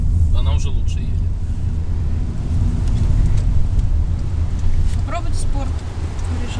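A Skoda Octavia on a test drive, heard from inside as a steady low engine and road rumble, with a voice speaking over it.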